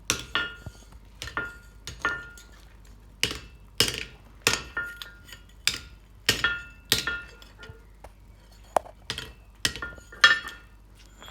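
A steel spear head forged from leaf spring steel is tapped onto its shaft in a blacksmith forge, giving a series of sharp metallic knocks at an irregular, roughly half-second rhythm, close and clear with no talk.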